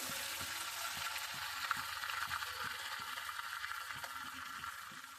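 Onion paste with chili powder sizzling in hot oil for a Bengali katla fish kaliya, a steady frying hiss with faint periodic scraping of a spoon stirring, close and continuous with no talk.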